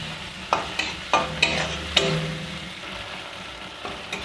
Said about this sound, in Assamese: দি আটাইখিনি ভালদৰে লৰাই ভাজি সিজাই ল'ম